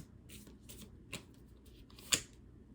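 Tarot cards being shuffled up close, a few soft riffling bursts with a sharper snap near the end, quiet and without speech.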